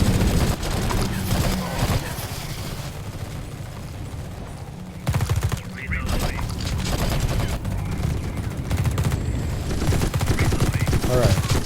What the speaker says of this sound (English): With all those turrets activate, this gate is holding much better.